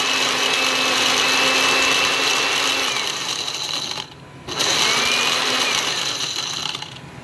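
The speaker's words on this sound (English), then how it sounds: "It's not happy about it, but it's blending." A blender grinds incinerated IC chips into powder with a steady, loud whining motor drone, briefly cutting out for half a second midway before resuming at full strain.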